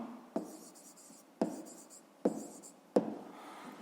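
A pen writes on paper during a fifth-grade maths exercise, a soft scratching that comes in four short strokes, each opening with a tap, close and quiet with no speech.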